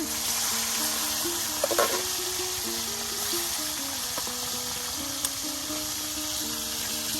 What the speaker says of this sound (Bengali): এই দেখুন মাছগুলো বাজি করা হচ্ছে